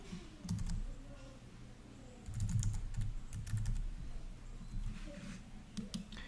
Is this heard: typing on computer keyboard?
yes